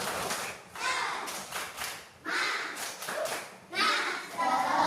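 Children in an Indonesian classroom doing the rhythmic 'tepuk semangat' clap: bursts of patterned group hand claps mixed with chanting voices, fairly close and lively.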